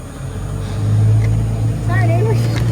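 A 1983 Chevrolet Squarebody truck with a 6.2 diesel, starting for the first time in years, idles with a close, steady low rumble while people talk over it.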